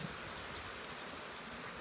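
Heavy rain pours down in a steady, dense hiss that fills the short moment evenly, with nothing else standing out.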